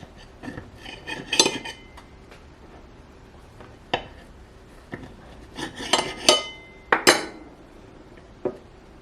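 A knife saws through thick einkorn sourdough discard pancakes on a plate, with sharp clinks and scrapes of metal on ceramic arriving in irregular bursts. The sounds are close and there is no talking between them.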